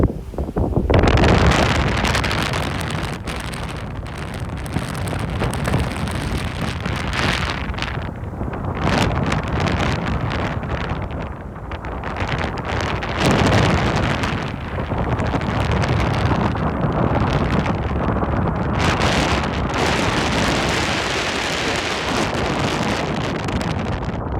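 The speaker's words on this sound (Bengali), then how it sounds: "সমুদ্রে বাতাসের গর্জন যে শুনতে কীরকম লাগে আপনাদেরকে একটু সরাসরি শোনাই" Strong storm wind over the Atlantic Ocean roars and buffets the microphone in heavy, continuous gusts, loud and close, with a faint wash of sea beneath and no voices.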